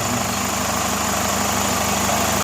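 A Chevrolet Captiva engine idles in a steady, smooth hum heard close up, running evenly before cutting off abruptly at the end.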